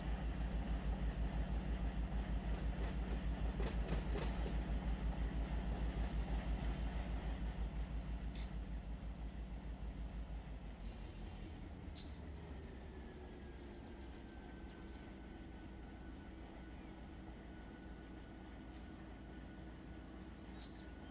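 A freight train rolls on rails in the Run 8 Train Simulator video game, on a line east of Mojave: a steady low rumble that is loudest at the start and eases off, with faint higher tones later and no talk.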